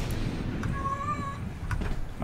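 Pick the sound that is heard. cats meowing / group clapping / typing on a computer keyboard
cats meowing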